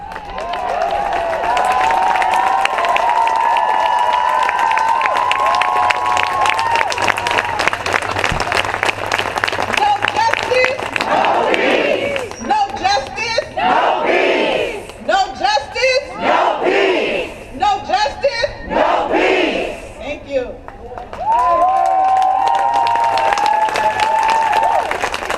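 Protest crowd at a 2020 demonstration chanting in unison and cheering, with loud rhythmic clapping bursts in the middle and sustained shouting voices, close and very loud throughout.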